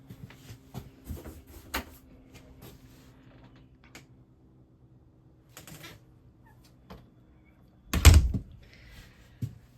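Pocket doors on an RV bathroom slide in their tracks, with scattered light clicks and rattles followed by a louder rumbling slide and thud near the end, close and otherwise quiet.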